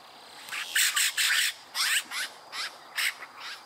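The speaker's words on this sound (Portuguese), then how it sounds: "pássaros são lindos, eles são pretos." Large black birds nesting in a crowded coconut palm on a farm in Douradina, Mato Grosso do Sul, giving a run of harsh raspy squawks in irregular bursts, fairly close and loud.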